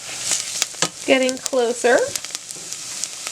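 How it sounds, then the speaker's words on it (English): A blonde roux of flour and fat is scraped and stirred across the bottom of a pan, with a steady sizzle and short scraping strokes under a brief spoken phrase. "I'm really making sure to scrape the bottom of my pan and get all that flour off the bottom so it's not just burning"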